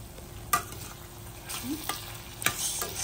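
A spoon mixes food with grated fresh coconut in a pan, a few sharp scraping clinks over a soft background sizzle, near and fairly quiet.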